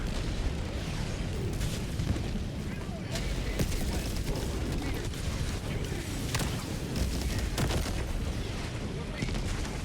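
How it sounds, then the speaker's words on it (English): Continuous rumble of airstrikes and explosions in the video game Helldivers 2, dense booms and crackling blasts rolling steadily without a break, loud and close. "What's causing these airstrikes?"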